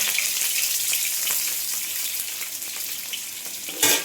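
Curry leaves crackle and sizzle in hot oil for the whole stretch, a steady bright frying hiss with a sharper spitting burst near the end.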